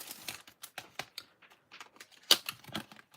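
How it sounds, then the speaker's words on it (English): Metal die pressed through patterned pecan pie paper to cut a circle, heard as a quick string of sharp clicks and crinkly snaps over about three seconds, one louder snap near the end, close and fairly quiet. "I'm going to die cut"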